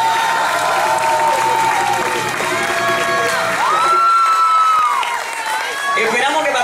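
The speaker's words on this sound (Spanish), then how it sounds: "el fuerte aplauso para el grupo de flamenco." A crowd at a family gathering's cultural show applauds a children's flamenco group, with dense clapping mixed with cheers and voices, loud and continuous throughout.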